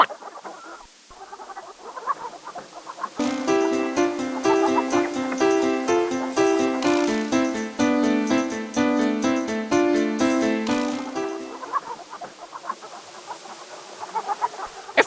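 A hen in the King's Quest III adventure game clucks in a rapid, rhythmic burst of synthesized squawks lasting about eight seconds, loud and close, with brief background music before and after.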